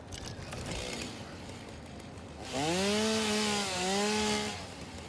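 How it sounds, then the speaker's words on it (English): A chainsaw in the factory-building game Satisfactory revs up midway through and cuts into a tree. A loud, wavering engine whine holds for about two seconds, then dies down. "Gonna have to cut that tree down. Oh, I need to put my chainsaw on."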